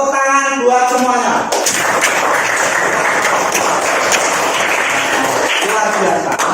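Children in a classroom at SDN 3 Badegan break into loud, steady applause lasting several seconds, a dense wash of clapping with an adult voice heard at the start.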